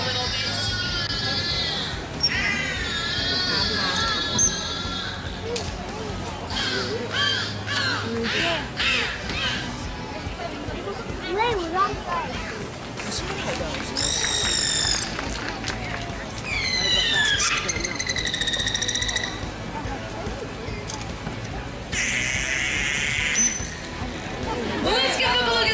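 Beluga whales at the Vancouver Aquarium give a long run of chirps, whistles and squeaky calls, some in rising and falling sweeps, over a steady crowd murmur with voices in the background.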